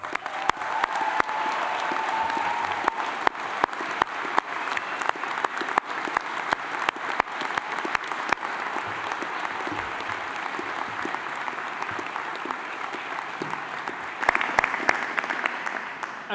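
A graduation ceremony audience at Anglia Ruskin University in Cambridge bursts into warm, sustained applause, dense rapid clapping that fills the hall steadily and swells again near the end.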